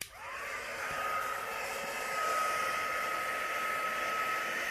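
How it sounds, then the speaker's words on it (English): An embossing heat tool with a hairdryer-style nozzle blows steadily with a high whining tone over a rushing airflow hiss, starting abruptly and running constant and close, over resin coasters. "This is just an embossing tool, and I put my hairdryer thingy on the top."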